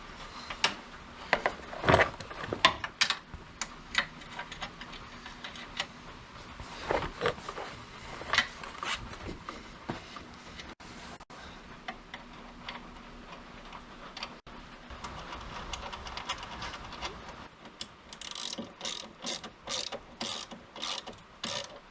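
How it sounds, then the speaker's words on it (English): Inside a car frame rail of a Merkur XR4Ti, a bolt is threaded into a nut with a steady run of close metallic ratcheting clicks, and quicker clicks come near the end. "thread that into the nut in the frame rail"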